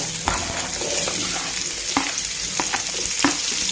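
Onions sizzle and crackle in hot oil, with a few sharp scrapes of a spoon stirring the pan.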